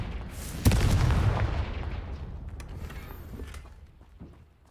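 A Confringo blasting spell goes off in the Hogwarts Legacy video game: a sharp, loud booming impact that rolls into a long, gradually fading rumble with a few faint crackles trailing off.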